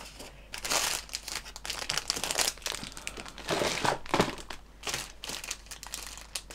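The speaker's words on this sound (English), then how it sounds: "Standard Eduard Peely bags. And I must admit, grating noises aside, I do like the peelable bags" Eduard peelable plastic bags holding model kit parts being peeled open and handled close up, a continuous busy crinkling and crackling with short louder bursts of tearing plastic.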